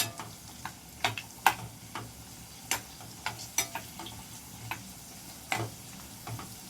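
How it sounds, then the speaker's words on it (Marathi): Dried bombil and potatoes frying in oil for a spicy rassa, a steady low sizzle broken by sharp scraping clicks of stirring at irregular intervals, close and fairly quiet with no voices. "चांगले असे परतून घ्यायचे आहे बघा व्यवस्थित तेलामध्ये."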